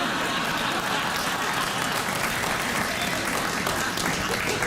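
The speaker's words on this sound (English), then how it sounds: "Thanks for a round of applause." Audience applause at a comedy talk show, a dense, steady wash of clapping that holds at an even level throughout.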